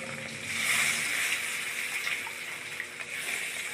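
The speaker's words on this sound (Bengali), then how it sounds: "এবারের মধ্যে আমি জল দিয়ে দেবো।" Water pours steadily into a pan of fish curry, a soft continuous gush that stays fairly quiet and unbroken for a few seconds.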